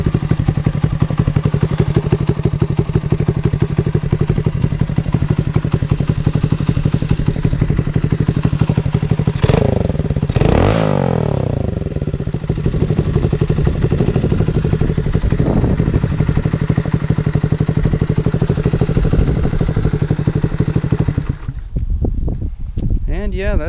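A 1982 Honda C70 Passport motorcycle fitted with a 125cc Lifan engine runs at a steady, loud, close idle throughout, with a few brief louder bursts near the middle before it cuts off near the end.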